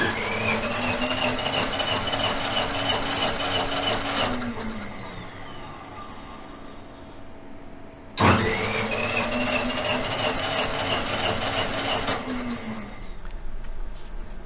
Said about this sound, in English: So once he's done setting it all up, we'll start cranking.